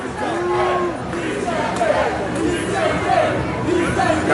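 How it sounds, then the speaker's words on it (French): Crowd at a live wrestling match in Paris cheering on the champion, a steady hubbub of voices with a commentator talking over it throughout. "La foule qui encourage le champion."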